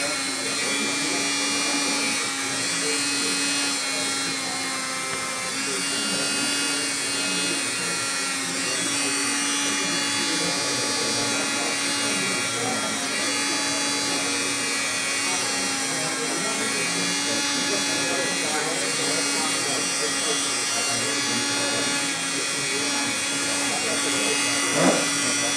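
A power sander whirs continuously and loudly at a steady pitch for the whole stretch, with no breaks.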